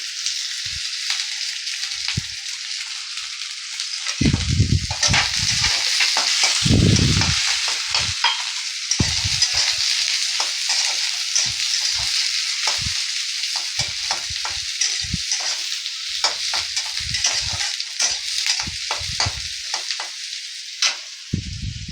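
Chopped onion and garlic fry in a pan with a steady, loud sizzle throughout, broken by frequent stirring scrapes and clatters as they are moved around.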